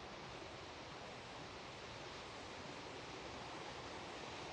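Water pours steadily over the waterfall at Hatcher Gardens, a faint, even broadband rush with no breaks or other sounds.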